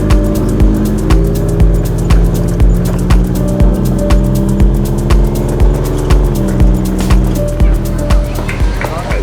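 A rented buggy with nearly useless brakes speeds along a road in Laos, its loud, steady engine drone broken by regular thumping jolts and rushing wind close to the microphone.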